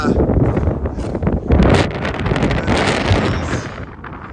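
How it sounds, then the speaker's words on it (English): Strong wind buffets the microphone in loud, continuous roaring gusts with no break throughout, outdoors beside a livestock trailer. "wow, it is so windy"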